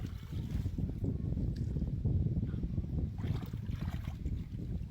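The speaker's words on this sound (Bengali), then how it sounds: "আর প্রচুর পরিমাণ বাতাস।" Strong wind buffets the microphone outdoors near water under a stormy sky, a steady low roaring rumble with gusty swells throughout and no voices.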